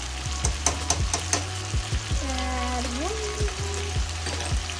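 Garlic and ginger sizzle steadily in a hot pan with cooked tomatoes, a loud continuous hiss broken by sharp clinks and scrapes of a utensil, and a brief whistling tone rising in the middle.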